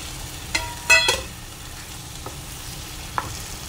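Fresh paneer pieces tipped into onion tomato masala in a pan, a quiet sizzle broken by a few sharp scrapes and clatters as it is stirred, close by with no speech.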